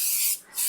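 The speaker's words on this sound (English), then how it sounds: "say that you can use cooking spray" Cooking spray greasing a bundt pan, two short hissing bursts from an aerosol can close up, separated by a brief pause.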